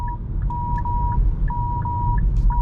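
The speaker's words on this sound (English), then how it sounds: "So you have the beeping sound, and also it is blinking, so quite useful feature." A 2021 Kia e-Niro's blind spot monitor chimes in short, evenly spaced electronic beeps, roughly twice per second, over a low hum of road and cabin noise while driving at night.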